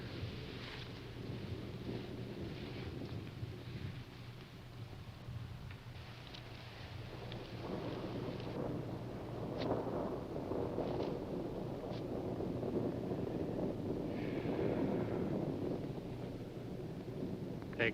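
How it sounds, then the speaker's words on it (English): Thunder in the 1968 film Night of the Living Dead rolls low and distant under wind-like noise, swelling and fading in long rumbles through the stretch. "I hear thunder, but I see no clouds."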